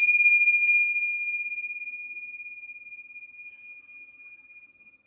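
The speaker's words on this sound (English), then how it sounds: "We are going to ring our bells to begin class, my friends." Bells rung to open a children's yoga class, a clear high chime that rings out alone and slowly decays over several seconds with a faint shimmer, no talking over it.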